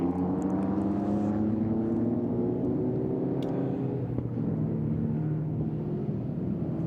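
An IROC Porsche racing car drones steadily around the Winton Festival of Speed circuit during a Group A and C tribute session, a sustained engine hum heard from a distance with no one talking.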